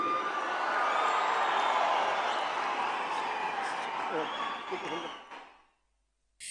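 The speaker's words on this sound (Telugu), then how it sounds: "చప్పట్లు కేకలతో సభా ప్రాంగణం మారుమ్రోగింది" A crowd applauds and cheers at Pawan's swearing-in ceremony, a dense, fairly distant roar of clapping and shouts that holds steady, then fades out before a brief final burst.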